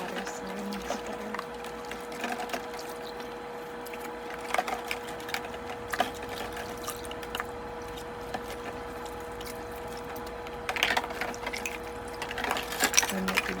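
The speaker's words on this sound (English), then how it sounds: "you can enjoy all that clinking and water sounds better" Dishes taken from a dishwasher clink and knock in water during a tactile cleaning session with tiny gloves, scattered soft taps and splashes over a faint steady hum, close and quiet, louder clinking near the end.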